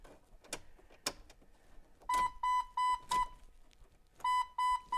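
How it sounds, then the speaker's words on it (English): Jeep headlight warning beeper, a bright electronic tone pulsing in two bursts of regular repeated beeps, with a few soft clicks and thumps before it. "That's a headlight warning."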